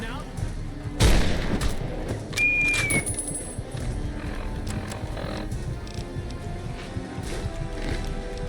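Grenade blasts in the Fallout: New Vegas video game, one sharp booming explosion followed by a second heavier rumble, set among game noise with a person talking over it.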